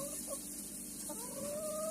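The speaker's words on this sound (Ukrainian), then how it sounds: "Перекинув трохи курей в старий хлів, щоб повизбірвали кукурудзу" Hens cluck softly and intermittently in an old barn, a few short calls rising over a steady low hum.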